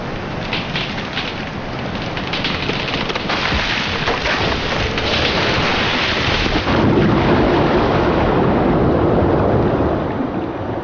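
Heavy rain pours steadily through Scottish woodland during a winter storm, with deep rolling thunder rumbling loudly and continuously beneath gusting wind, building slightly in the second half.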